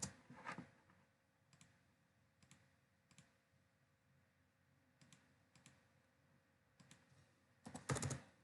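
Mouse clicks while working in Revit software, sharp isolated clicks spaced irregularly, some in quick pairs, faint and close in a quiet room.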